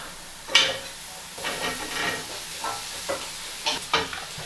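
Watercress and potatoes stirred in a pan of melted butter, a soft close sizzle broken by a few brighter scraping bursts from the spoon over about four seconds.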